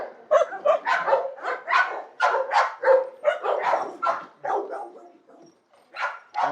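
Several dogs bark in quick repeated bursts, loud and close, around a makeshift fence meant to keep the large dogs from slipping through, with short pauses between volleys.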